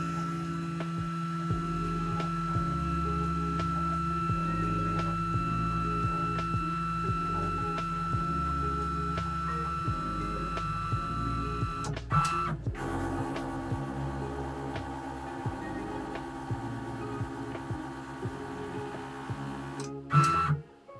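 A Genmitsu PROVerXL 4030 CNC router drives its stepper motors back toward its home position at the rear left corner, producing a steady electronic whine and hum with shifting tones and a few faint clicks.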